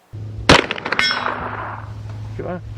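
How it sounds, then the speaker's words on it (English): Bullets strike steel shooting targets at close range with a pistol-caliber carbine, a loud sharp shot and clang followed by another ringing metallic ping that decays over a couple of seconds. "having the steel have that feedback of the sound, and instantly if you've got a hit"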